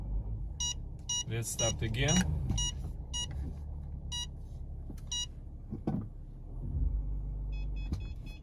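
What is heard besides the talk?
car parking sensor beeping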